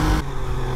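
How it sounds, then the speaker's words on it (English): Triumph Trident 660 mid-size motorcycle under hard acceleration, the engine note cutting and stumbling as traction control intervenes; loud, close mechanical drone with a sharp drop after a brief surge. "Traction control intervening a lot there."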